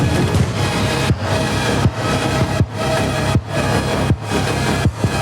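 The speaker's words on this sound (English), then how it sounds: "what you hear is this like super low rumbling bass" A deep, sustained bass rumble made from a recorded truck sound throbs continuously, with regular low pulses roughly every three-quarters of a second, loud and close.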